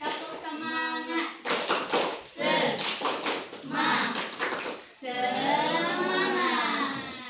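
A class of primary school children in an Indonesian maths lesson chant together in unison, punctuated by bursts of rhythmic hand claps, loud and close, with the chanting voices carrying throughout.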